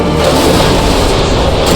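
A heavy AGM missile strike fired from a submarine in Call of Duty: Modern Warfare II, a loud, dense, rumbling explosion that fills the whole moment with low booming roar and no talking.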